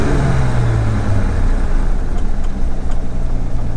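A Jaguar E-Type sits in park with its engine idling high at about 1,500 RPM, a steady, loud, continuous rumble close by with no talking.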